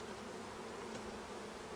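Honeybees at a hive being fitted with an inner cover after a package install make a soft, continuous low buzzing throughout.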